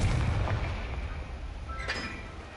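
A Confringo explosive spell blast in the video game Hogwarts Legacy, a loud booming burst at the start that rumbles and fades, followed by a softer crackling pop near the end.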